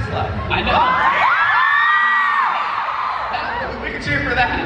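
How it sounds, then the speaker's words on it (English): An audience at a VidCon interview cheering loudly, a crowd of shouts, whoops and high-pitched screams rising together and swelling, then fading back before a fresh burst. "We can cheer for that."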